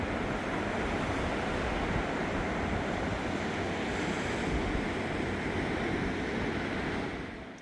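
Ocean waves breaking against a rocky coastline in Busan, a loud, continuous roar of surf mixed with wind buffeting the microphone, holding steady before easing off at the very end.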